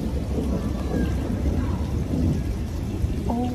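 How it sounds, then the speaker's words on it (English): Thunder rumbles low and steady through a rainy thunderstorm beside a river, a broad continuous wash of rain and deep rolling noise that holds at an even level for the whole few seconds. "I love thunderstorms, so I actually get really excited when I hear this sound."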